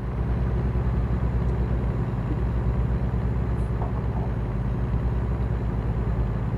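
A Kenworth truck running without a trailer in American Truck Simulator drones steadily, its low engine rumble holding even and close for the whole stretch, with no voices.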